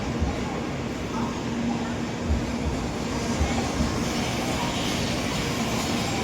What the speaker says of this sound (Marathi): ही जी आमची आत्ता जी ट्रेन आली आहे ही नोझोमी 61 आहे